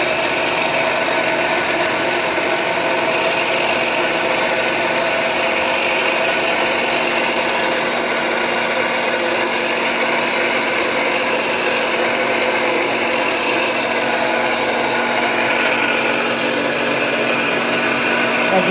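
A DIY 24V DC motor drives a centrifugal pump, making a continuous whirring hum with a steady tone and a bright mechanical whine, even and unbroken throughout.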